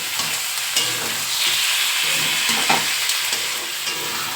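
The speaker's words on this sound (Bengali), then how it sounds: "তো এখানে এই যে মাংসটা কষানো হচ্ছে" Chicken is sautéed with spice masala in a pan, a loud, close, steady sizzle with hissing steam and periodic scraping strokes of a spoon, with no voices.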